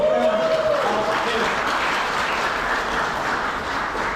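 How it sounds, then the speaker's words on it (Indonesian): Wedding guests applaud in a dense, steady wash of clapping that carries on through the clip, with a brief tonal sound near the start and voices faintly mixed in. "Oh, tepuk tangan."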